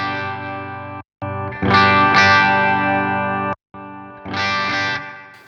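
Electric guitar through a REVV Dynamis amp set to 7 watts for power amp distortion, sustained overdriven chords ringing loud and thick, broken by two brief silences.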